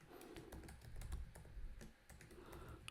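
Quick, light keystrokes on a computer keyboard while writing Java code in Eclipse, an uneven close patter of clicks with brief pauses and no voices.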